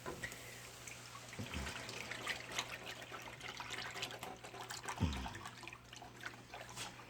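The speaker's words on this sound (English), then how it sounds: "Now I'm going to pour my chicken stock in." Chicken stock poured into a pan of cooked flour, a soft, steady liquid trickle and splash close by with a couple of brief clunks.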